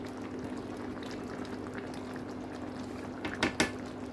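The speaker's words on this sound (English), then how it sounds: "And let's boil it for about 10 minutes." A chicken curry with coconut milk, fried potatoes and carrots boils in a pot with a soft, steady bubbling, and a few brief louder clinks or splashes come near the end.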